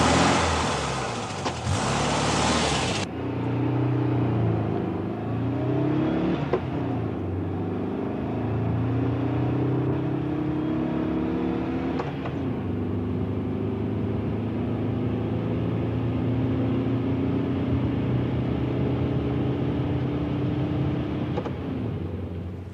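A 1965 Volkswagen 1200 Beetle drives during a road test, its air-cooled engine droning steadily, with rising and falling pitch as it revs through the gears, close and continuous without speech.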